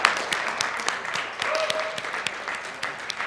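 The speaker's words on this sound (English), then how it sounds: "Can we get a round of applause for that?" Sparse applause at a student meeting, scattered individual claps in a small room, fairly faint, with quiet voices underneath.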